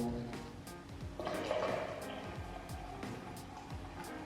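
Water poured into a French press for coffee, a brief splashing pour near the start followed by a trickling fill and clinks of glass, fairly quiet and close, with no talking.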